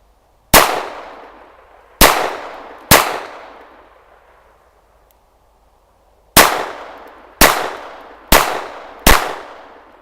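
Seven sharp Ruger SR22 pistol shots fired at targets, close and loud, spaced irregularly with a pause of several seconds midway, each crack followed by a short decaying ring.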